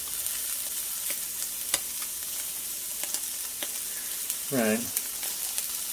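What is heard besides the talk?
plant-based sausages frying in a pan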